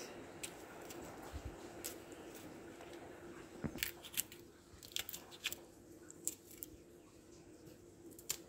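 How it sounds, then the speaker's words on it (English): Peppers being sliced with a knife over roast breadfruit and stew chicken cooking outdoors: scattered faint crisp snips and crunches at an irregular pace over a soft background hiss. "I'm going to cut the peppers on top of it."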